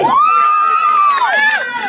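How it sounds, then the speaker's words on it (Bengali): A crowd cheers at a school and college annual sports prize-giving ceremony, with a loud drawn-out shout rising over the steady, close crowd noise for about two seconds. "সবাই জোরে হাততালি"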